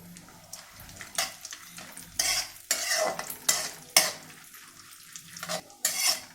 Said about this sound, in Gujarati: ઝીણી ઝીણી કતરણ કરી એને આપણે ઘીમાં સાંતરી લઈશું